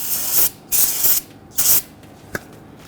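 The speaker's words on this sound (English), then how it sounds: "Gonna spray that down with some solvent to clean up that brake fluid." Aerosol solvent is sprayed onto a rear brake caliper of a Ford Taurus to clean off brake fluid, three short close hissing bursts followed by a small knock.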